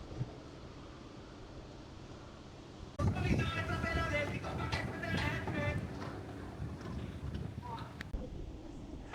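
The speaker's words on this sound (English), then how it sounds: "It is so windy that everything's going everywhere" Strong wind in Fuerteventura at an outdoor bar buffets the microphone with a steady roaring rush that swells and stays loud, while people talk over it.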